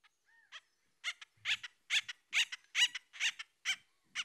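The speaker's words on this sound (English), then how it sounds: "Whereas the acorn woodpecker." Acorn woodpecker calls in oak woodland near Big Bear, a run of loud, harsh, repeated nasal squawking notes in quick succession, close and clear, with no talking.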